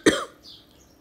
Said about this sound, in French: elle avait forcé sa toux pour lui infliger quand même des remords